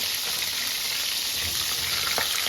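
Nigella seeds and chili frying in hot oil in a home kitchen, a loud, steady crackling sizzle with small pops throughout, close by and without talk.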